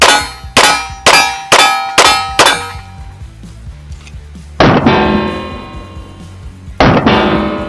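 Laugo Alien handgun fired in quick succession, five sharp ringing reports at a steady rhythm, then two more widely spaced shots with long metallic ringing tails, loud and close.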